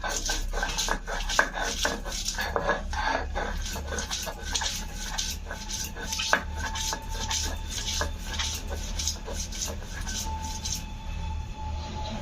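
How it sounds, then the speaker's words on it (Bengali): Garlic cloves crushed and ground on a stone pata-puta slab, a steady run of rough scraping and knocking strokes close by, with a dog barking in the background. "এই রসুনগুলো এখন পাটাপুটায় বাটা হবে"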